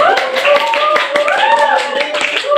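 Classroom students clapping together at close range for a photosynthesis group presentation, a dense steady patter with voices talking over it throughout.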